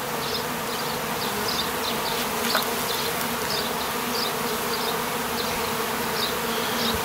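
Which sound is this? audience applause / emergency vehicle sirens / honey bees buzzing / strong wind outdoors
honey bees buzzing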